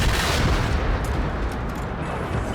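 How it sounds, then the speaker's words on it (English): Rocket launcher fire in the video game Generation Zero: a dense, loud, continuous roar of blasts and booming rumble filling the whole stretch, with no talking over it. "Just keep mashing them with your rocket launcher if you're this close."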